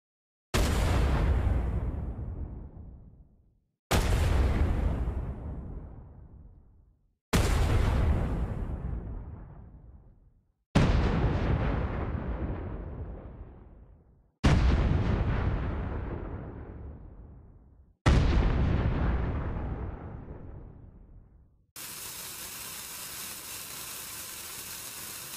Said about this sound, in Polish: udało się wykopać z plików gry dźwięki nowej broni, jaką byłby dynamit.